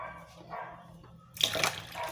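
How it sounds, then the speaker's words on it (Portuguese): Water is added to a cooking pot holding bell pepper and garlic, a soft trickle at first and then a louder splashing pour midway through, close by with faint kitchen background. "agora eu vou acrescentar aqui água"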